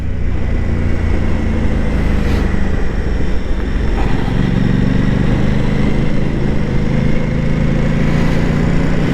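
Aprilia Tuono 660 Factory motorcycle engine while riding on the road, a steady loud drone with wind rush that holds throughout, rising slightly in tone partway through.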